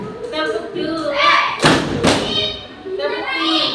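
A class of pupils claps twice together in a classroom clapping game, two sharp, loud broadband claps about half a second apart, with children's voices chanting before and after.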